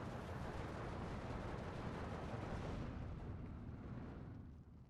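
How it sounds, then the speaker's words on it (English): An M10 tank's ammunition cooks off in the video game Steel Division 2, a dense, sustained explosive roar filling the soundscape before slowly fading toward the end. "getting an ammo explosion here on the M10"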